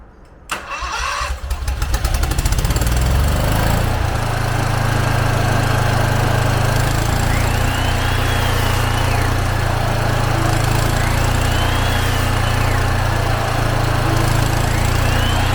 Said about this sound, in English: start the generator and cut a few and make sure that it's got power